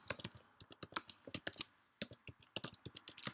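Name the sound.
typing an email on a computer keyboard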